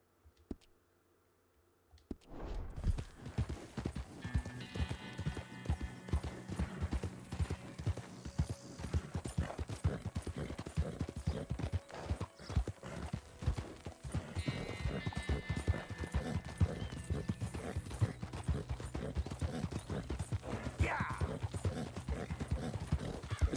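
Steady clip-clop of horse hooves in Red Dead Redemption 2, a fast, continuous rhythmic beat with tack and gear rattling, loud and close after a brief quiet start, with no speech.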